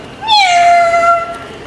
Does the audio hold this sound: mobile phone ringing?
no